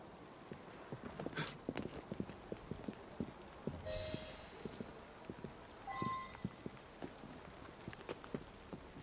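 Horse hooves clip-clop at a walking pace through Victorian London streets in a video game, a steady run of crisp, fairly close footfalls with faint city ambience and brief background sounds.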